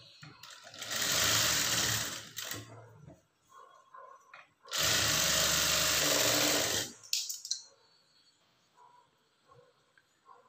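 A sewing machine stitches a blouse lining in two loud, steady runs of about two seconds each, separated by brief pauses and quieter handling noise.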